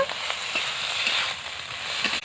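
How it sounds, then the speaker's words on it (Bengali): Boiled potatoes are stirred into masala frying in a pan, giving a steady, close hiss of sizzling oil with soft spatula scrapes. "আলু সিদ্ধ করে রেখেছিলাম এবার দিয়ে দেবো মশলার সাথে ভালো করে নেড়ে নেব"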